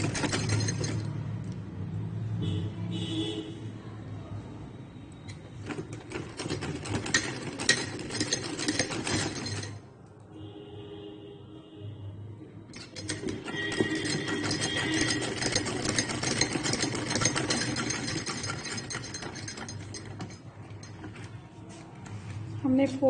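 A sewing machine stitches a folded fabric strip onto a puff sleeve with a steady mechanical whir up close. It pauses briefly in the middle, then runs again, while someone talks over it.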